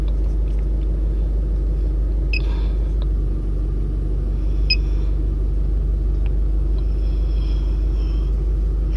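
A 2020 Nissan Terra with the YD25 diesel engine idles in a workshop, giving a steady low rumble throughout with a few faint high clicks and beeps above it, and no talking.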